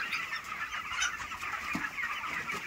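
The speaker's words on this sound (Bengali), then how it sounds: "কত দেখো, কত মুরগি দেখো" Many broiler chickens clucking together in a crowded farm shed, a continuous overlapping murmur of soft clucks, moderately close, with no voices.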